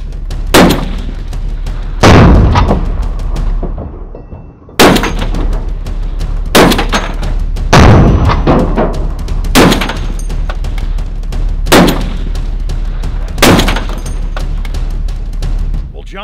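Rapid heavy gunshots fire at a target, U.S. Army armor-piercing tracer rounds cracking in about eight loud, sharp reports spaced a second or two apart, each trailing a brief rumble, with voices in the background.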